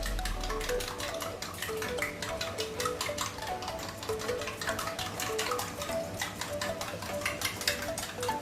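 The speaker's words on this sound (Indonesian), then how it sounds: "telurnya diaduk pakai ebi" Eggs mixed with dried shrimp are whisked briskly in a bowl, a fast, even run of light ticking strokes that keeps up steadily throughout, close and fairly quiet.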